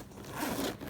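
A zipper on a clear plastic stadium bag is pulled open in one steady, close, continuous rasp lasting about a second, with no talking.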